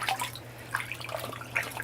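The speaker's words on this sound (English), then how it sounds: "And then I pour water on her" Water is poured over a small child in a bath, soft splashing and trickling that comes in small bursts, close and fairly quiet, with no talking.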